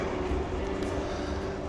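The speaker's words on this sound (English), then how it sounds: "and here comes the tram" A tram approaches along a railway line with a steady low rumble and rolling wheel noise, loud and continuous throughout, without speech.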